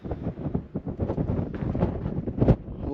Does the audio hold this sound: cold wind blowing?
yes